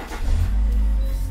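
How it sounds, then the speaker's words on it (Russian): A Nissan Presage with a 2.5-litre four-cylinder engine fires up and revs briefly, giving a deep, loud, steady rumble close to the listener. "Итак, мы заводим машину"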